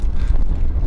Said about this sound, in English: Oh my goodness, is it windy. I don't know if you can hear this in the microphone